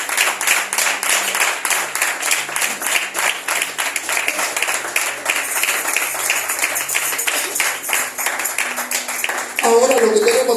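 A church congregation claps its hands together in steady praise, a dense rhythmic stream of claps held for several seconds, while voices carry on beneath it and rise near the end.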